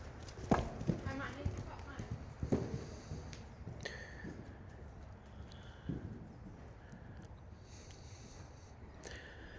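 A horse canters toward a skinny cross-country practice fence, giving several rhythmic hoofbeats up close that fade into the distance, with people talking over them.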